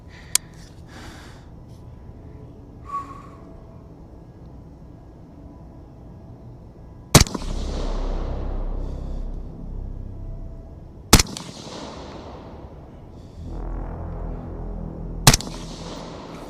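Three loud, sharp cracks from a precision gas air rifle, spaced several seconds apart, each followed by a brief fading echo, with quiet outdoor background between shots.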